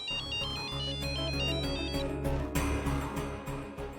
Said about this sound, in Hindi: अरे ये तो प्रियो का फोन आ रहा है।